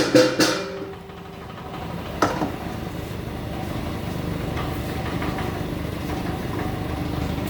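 Small atta chakki flour mill machine running as it grinds maize, a steady motor drone with a few sharp knocks early on, close and continuous, without speech.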